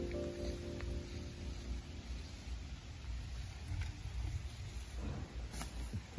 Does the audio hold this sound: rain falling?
yes